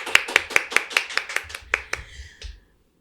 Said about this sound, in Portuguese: Aplausos para o nosso entrevistado.